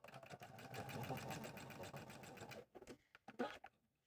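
A sewing machine stitches the arm onto the solid side of a squirrel accessory, running in a fast, steady whir for over two seconds, then stopping with a few short bursts.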